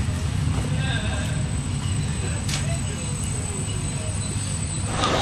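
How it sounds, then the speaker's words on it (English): Interior of a local German train heading to Düsseldorf: a steady low rumble of wheels and carriage, with a high constant whine and occasional clicks of rail joints, continuous and fairly close. "I'm headed on my own train to go to Dusseldorf"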